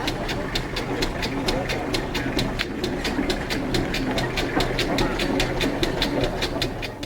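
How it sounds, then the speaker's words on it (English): A 1920 Fowler Tiger 5-ton steam tractor, the Crimson Rambler, chuffs steadily as it is moved slowly through a crowd of visitors, with a regular rhythmic beat and crowd noise underneath. "the Crimson Rambler, a 1920 5-ton Fowler Tiger tractor, is manoeuvred carefully through the crowd of visitors"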